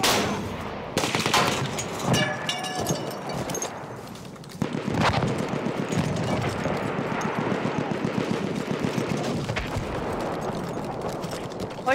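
Battlefield 1 combat with dense bursts of gunfire and sharp shots rattling continuously over twelve seconds, loud and close, mixed with battlefield noise and occasional talk.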